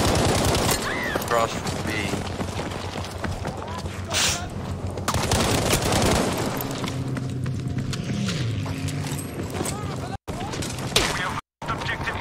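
Sustained machine gun fire in Battlefield V, mixed with other gunshots and explosions on the Hamada map, the din continuing under a player talking throughout, with brief cuts to silence near the end.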